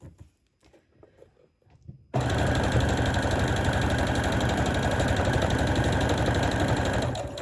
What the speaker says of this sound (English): And we're sewing along to the end there.